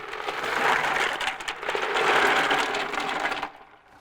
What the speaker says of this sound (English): Add some ice.